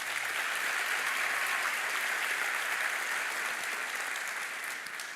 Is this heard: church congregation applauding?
yes